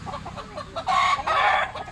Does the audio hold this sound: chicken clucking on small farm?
yes